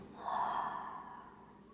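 One slow, airy yoga exhale, close and fairly soft, swelling quickly and then trailing away over about a second, with no talking.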